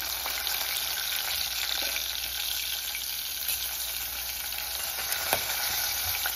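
Green chillies, curry leaves and turmeric frying in hot oil, giving a steady, close, loud sizzle with a faint stir or clink partway through, and no voices.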